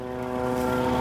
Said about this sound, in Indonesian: ini suara drone ini masih jelas sekali terdengar nih